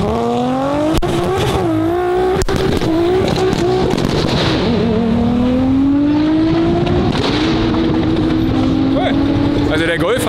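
Cars launching hard off the start at a Salzburgring track day, engines roaring loud and close with rising revs, tire noise and one strong pass, under speech from people nearby.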